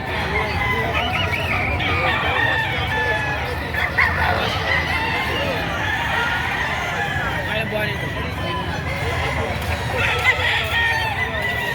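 Gamefowl roosters at a Batangas market, crowing and clucking steadily amid a dense crowd babble, with voices talking throughout.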